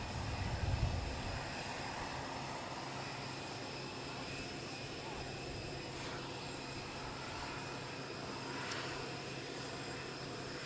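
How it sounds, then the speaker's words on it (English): An Air Force plane lands at Palm Beach, its engines giving a steady distant roar throughout, with a faint rise and then a swell near the end. "another Air Force plane landed carrying First Lady Melania Trump and other members of the Trump family"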